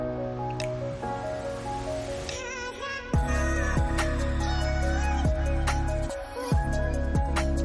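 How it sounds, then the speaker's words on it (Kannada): Green chillies and ginger garlic paste sauté in hot oil, crackling and sizzling steadily up close, with sharp pops and stirring noises throughout. "ಶುಂಠಿ ಬೆಳ್ಳುಳ್ಳಿ ಪೇಸ್ಟನ್ನು ಚೆನ್ನಾಗಿ ಬಾಡಿಸ್ಕೊಳ್ತಾ ಇದ್ದೀನಿ ಎಣ್ಣೆಗೆ"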